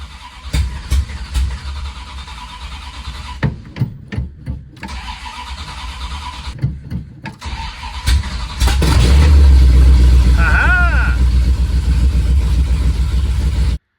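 A 1977 Dodge Ramcharger truck's 440 engine cranks, catches and settles into a loud, steady rumble that grows heavier as it runs on, with no talking.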